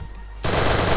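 MP40 submachine gun in a video game firing a sustained automatic burst that starts abruptly partway through, loud and dense, with quieter game ambience before it.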